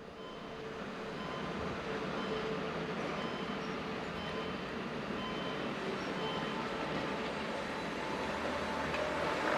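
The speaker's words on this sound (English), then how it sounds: "The two railcars seen here date from 1979." Two 1979 railcars of the Weinental- und Surentalbahn, one still in orange livery, rumble past at a Swiss station, a steady, fairly quiet rolling drone that swells slightly and holds throughout.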